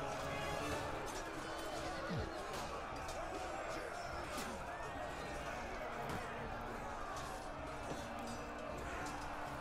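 Horses whinny and hooves clatter amid a loud battle din in Rome Total War 2, with cavalry charging and crowd noise layered throughout.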